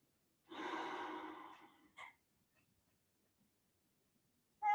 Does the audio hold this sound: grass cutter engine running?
no